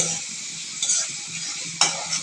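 Shrimp stir-fry with onions in a pan: a bright, steady sizzle fills the stretch while a spatula scrapes and clinks against the pan twice, close and clear, with no talking.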